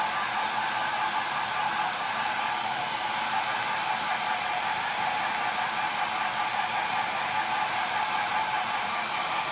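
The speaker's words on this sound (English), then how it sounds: "I'm just going to dry this a little bit more" A hair dryer runs steadily on a chalk paste layer during a Chalk Couture Christmas truck craft, a constant close whooshing roar that holds without a break throughout, with no talking.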